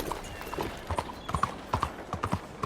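A horse's hooves clop in an uneven, moderately paced rhythm in Red Dead Redemption 2, close and fairly crisp over low ambient game noise, with no speech.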